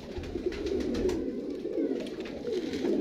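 Breeder pigeons coo in soft, repeated throaty calls, close by and steady, with a low hum in the background and no talking.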